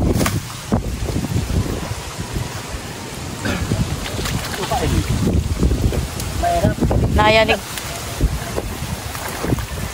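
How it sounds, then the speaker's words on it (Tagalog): Strong wind buffets the microphone in a steady roaring rush over an earthen rice-paddy dike, with people talking faintly underneath and a brief rattling sound near the end. "Grabe, ang hangin."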